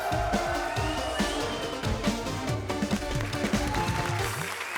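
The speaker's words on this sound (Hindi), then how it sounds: "जोरदार तालियां हमारी इस तिगड़ी के लिए।" A studio audience at a comedy show applauds a comedy trio, steady loud clapping throughout with a low musical bed underneath.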